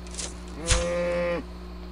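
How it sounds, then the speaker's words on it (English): A single short synthetic cow moo from the RuneScape video game, clean and mid-loud, preceded by a small click over a quiet steady game background. "Okay, I just killed a cow."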